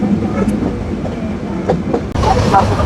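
Sagardari Express train running near Hardinge Bridge in Pabna, Bangladesh: a steady, loud rumble of rolling carriages with rhythmic wheel clatter, growing busier and brighter toward the end.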